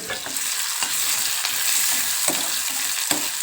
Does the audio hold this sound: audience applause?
no